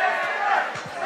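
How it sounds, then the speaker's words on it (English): Crowd at a PKG fight between Tanner Grant and Julio Rios, chanting for Tanner Grant in a steady rolling roar with faint rhythmic voices rising through it, continuous and fairly loud in the background. "you hear the chants from the crowd for PKG's Tanner Grant"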